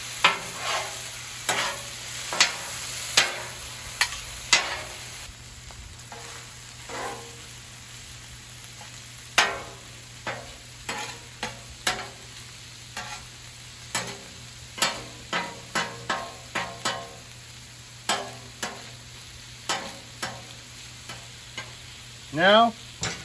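Cheesesteak meat and vegetables frying on a 36-inch Blackstone griddle, a steady low sizzle broken by frequent sharp metallic spatula scrapes and taps, close by and uneven in rhythm, without speech.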